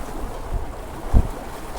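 Steady wind rushing and buffeting across a microphone on open water aboard a sailing boat with a large carbon genoa, with low gusts and a brief thump partway through.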